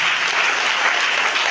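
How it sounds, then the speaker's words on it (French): Loud, dense applause fills a church service, a steady wash of many hands clapping together with no breaks, close and enveloping. "Acclame Jésus."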